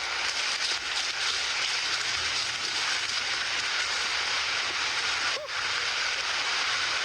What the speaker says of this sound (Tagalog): Malakas sa ulan mga tol.